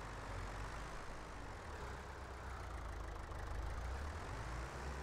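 A tractor engine idles in Farming Simulator 22 on a Canadian homestead farm, a steady low rumble with no talk, holding at an even level throughout.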